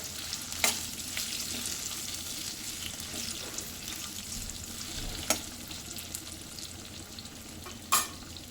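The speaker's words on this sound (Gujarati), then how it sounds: "થોડી વાર એને શેકાવા દેવાના બરોબર।" Okra and potatoes frying in a pan make a steady soft sizzle, with occasional clinks from stirring near the start, middle and end, and no voices.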